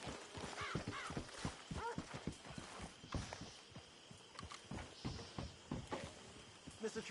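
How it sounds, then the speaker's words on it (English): A horse in Red Dead Redemption 2 clip-clops along in a steady, close hoof rhythm, with a brief whinny early on and a few short pauses between the footfalls. "Get that horse out of here."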